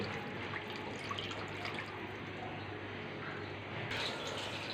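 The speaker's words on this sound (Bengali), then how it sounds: "এখন জলটা দিয়ে দিতে হচ্ছে" Water being poured into a covered cooking pot partway through a home-style Bengali lunch dish, heard as a steady, fairly quiet liquid trickle and splash running throughout, with a slight brightening near the end.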